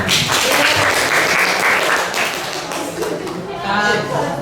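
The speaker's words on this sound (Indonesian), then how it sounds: "Kasih tepuk tangan." Classroom applause following a student group's presentation on avoiding free association and zina: a crowd of hands claps steadily and loudly throughout, with murmured voices mixed in underneath and fading slightly toward the end.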